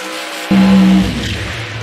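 A funny car's engine during a drag racing run at Keystone Raceway Park, loud and close, with a steady roaring drone that jumps up sharply and holds before easing back.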